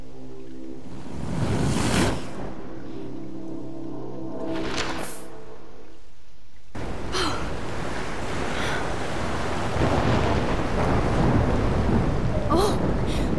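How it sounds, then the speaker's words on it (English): In the game Life is Strange, a thunderstorm rages: thunder rumbles and cracks loudly, then driving rain and wind roar continuously, with swelling gusts like crashing surf. "What about the storm now?"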